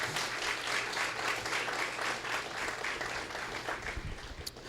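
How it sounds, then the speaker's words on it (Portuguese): A church congregation applauds during a sermon, a steady wash of many hands clapping at moderate loudness that carries on throughout, with no talking and some low rumble beneath. "Aplauda ao Senhor em nome de Jesus."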